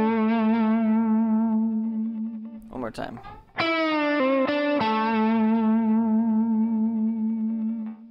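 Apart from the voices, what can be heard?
electric guitar lick with bending and vibrato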